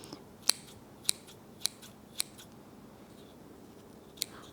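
Scissors snip the front of a Christmas plant wreath in five sharp, separate cuts, four spaced about half a second apart and a last one after a pause, set against quiet room background with no talking.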